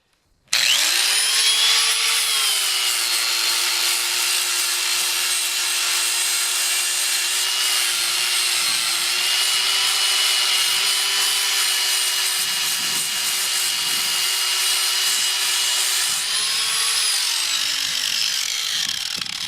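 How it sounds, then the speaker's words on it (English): A grinder runs continuously at a steady high pitch for nearly twenty seconds, starting abruptly, loud and close, with a slight dip and rise in pitch near the end as it bears into the work. "if you can have a grinder set up for a purpose and just use that, just grab it and use it and put it down"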